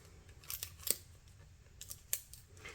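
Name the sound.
cutting with scissors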